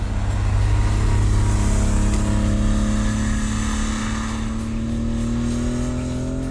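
A 1984 Porsche 911 Carrera driving on a wet road, its engine a loud, steady drone whose pitch climbs gradually, with no voices.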